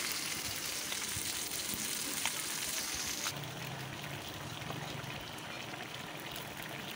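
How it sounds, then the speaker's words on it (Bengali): Potatoes and pointed gourd frying in a pan on a clay stove give off a steady bright sizzle, loud at first and then quieter and softer partway through, with a low bubbling underneath. "একটু একটু করে আলু পটলটা আমি কষে নিয়ে আর এক সাইডে মাছগুলো একেবারে কড়া কড়া করে লাল করে ভেজে নেব।"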